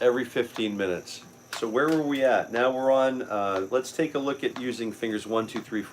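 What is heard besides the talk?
No everyday noise stands out behind the speech.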